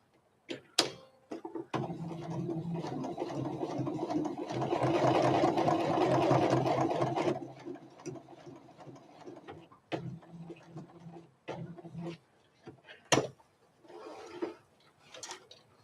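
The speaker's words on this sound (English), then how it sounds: "I am going to do a little bit of a backward stitch, kind of lock the stitches there." A sewing machine runs in a short burst of humming stitches and then falls quiet. Scattered clicks, ticks and fabric handling follow at moderate volume.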